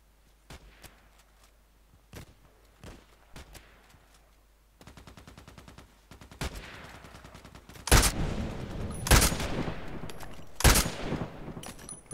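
Bursts of automatic gunfire in the shooter game Contract Wars, sparse sharp shots early giving way to loud, dense sustained volleys with heavy peaks toward the end.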